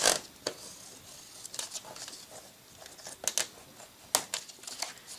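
Scissors snip through paper card for a DIY box, giving a few distinct crisp cuts in quick pairs with a rustle of the sheet between them, close and clear.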